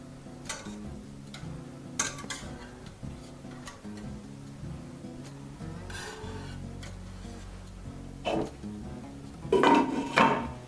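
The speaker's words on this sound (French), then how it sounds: "Maintenant, je vais utiliser le fouet pour finir le tranchage et obtenir des cubes de 5 mm à 1 cm." A whisk cuts cheese curd into small cubes in a pot, giving steady metallic clinks and scrapes against the pot that grow louder toward the end.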